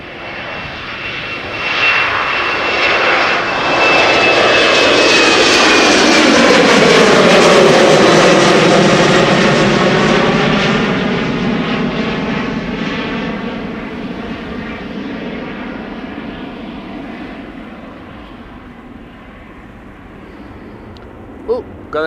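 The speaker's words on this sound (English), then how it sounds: "Oh, got a heavy hitter taking off from center." A Boeing 787 heavy jet takes off at Schiphol, its engine roar swelling loud and close before a long sweeping drone fades into the distance, with a high whine early on.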